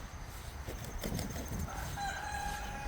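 Cornish cross and American Bresse mix chickens, about 8.5 weeks old, give soft clucks and calls outdoors against a steady background hiss, with a higher crowing call rising near the end.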